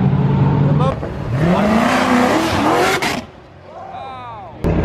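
A car revs and accelerates hard as it leaves a Cars and Coffee meet in Houston, a loud engine roar rising in pitch through gear changes, then passing and fading, with people talking over it.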